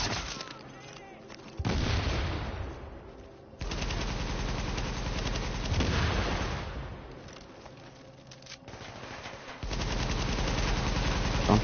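Bursts of automatic gunfire in The Division, a third-person shooter, rattle through several loud stretches separated by quieter gaps, with voices talking in between.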